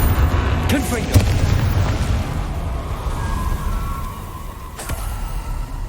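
Spell explosion from the blasting charm in the Hogwarts Legacy video game, a deep boom that rolls over a rumbling game background, moderately loud, with a voice heard in the mix.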